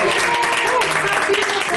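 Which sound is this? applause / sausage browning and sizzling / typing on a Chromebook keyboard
applause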